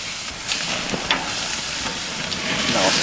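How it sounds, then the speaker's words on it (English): Steaks sizzle on a hot gas grill right after flipping, a steady close crackling hiss with scattered pops and spits and no talking. "All right, now we'll flip the steaks over."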